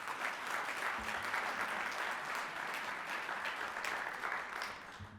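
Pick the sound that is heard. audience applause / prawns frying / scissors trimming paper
audience applause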